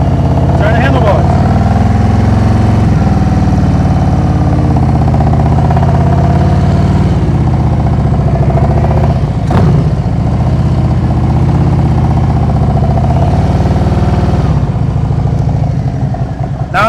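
A motorcycle engine idles and then pulls away slowly in first gear with the clutch feathered in the friction zone, a steady low rumble rising gently, while someone talks over it throughout.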